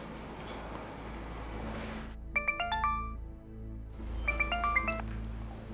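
A phone ringtone plays two short bursts of bright, melodic electronic tones, separated by a pause. It sounds clear and fairly close against a low background hum, with no talking.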